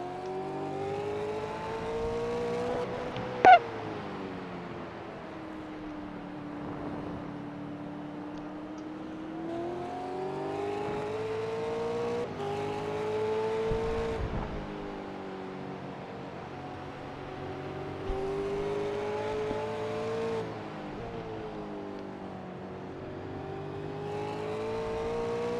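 Race car engine in a video game at Watkins Glen, a steady droning whine that rises and falls with throttle and gear changes through corners, with a brief sharp click early on and no talking.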